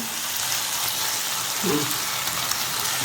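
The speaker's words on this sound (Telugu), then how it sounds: "కొంచెం హైలో పెట్టి కొంచెం వేయించండి, ఇంకా పచ్చివాసన పోవాలి కదా అందుకు" Ginger garlic paste frying on high heat in a pan for a crab curry, a steady close sizzle and hiss with a faint brief voice murmur partway through.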